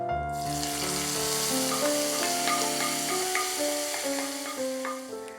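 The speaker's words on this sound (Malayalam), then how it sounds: "നമുക്ക് ഫ്ലെയിം ഓഫ് ചെയ്തിട്ട് ഇതിലേക്ക് മാമ്പഴ പുളിശ്ശേരിയിലേക്ക് ഒഴിച്ചു കൊടുക്കാം." Hot tempering with asafoetida poured into a ripe mango curry, giving a close, steady sizzle and bubbling that spreads through the whole stretch and eases slightly toward the end, with no talking.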